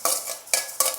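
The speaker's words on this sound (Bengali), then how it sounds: "তিলটা আমি হালকা ভেজে নেব।" Sesame seeds being lightly dry-roasted in a pan for sesame-coconut naru, with three scraping stirs of the seeds sounding in short, close bursts and no talk.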